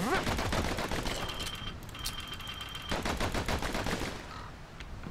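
Pistols fire in the video game Bastion as rapid bursts of dense, repeated gunshots that run close and loud through the whole stretch, with no talking.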